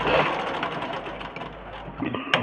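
A sewing machine runs a double line of stitching on a blouse, its fast steady mechanical whirr close and continuous for about two seconds, then it slows and stops with a small clack.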